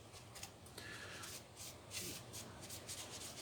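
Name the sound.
rubbing metallic powder onto a model orc blade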